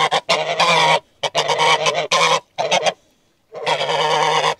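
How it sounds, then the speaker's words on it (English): Geese on a farm in Portugal honk loudly and close in repeated nasal bursts, broken by brief pauses, with a long stretch of honking at the end. "Now I know a farm life video is not complete without the geese."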